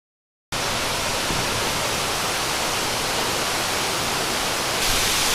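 A waterfall in Mindanao, the Philippines: a loud, steady, broadband roar of rushing water that starts suddenly and continues evenly without pause, with no voices.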